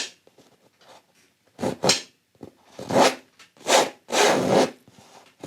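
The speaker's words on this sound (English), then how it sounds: "All right, you want to scrape that paint off." A tool scrapes oil paint off a canvas in a beginner oil painting session, making several short, close rasping strokes separated by pauses, with no talk.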